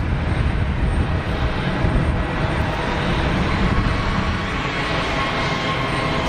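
Austrian-registered EasyJet airliner on long final approach to Geneva Airport, a loud continuous broadband engine rumble and whine holding steady throughout, with no voices.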